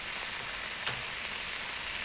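Pork chop frying in oil in the Cooking Simulator video game, a steady even sizzle with one brief crackle partway through, heard alone without talk.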